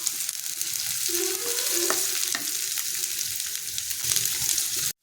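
Chopped cabbage and onion crackle in a frying pan with a dense, continuous sizzle and occasional stirring scrapes, close and fairly loud, cutting off abruptly at the end.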